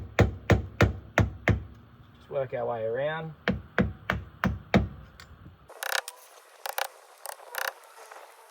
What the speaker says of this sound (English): I've just got the flat blade screwdriver and hammer, and we're just going to get in there